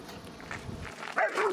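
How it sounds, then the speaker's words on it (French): A dog barks and yips briefly at close range, a short burst near the end after some muffled movement. "surtout les aboiements sont différents"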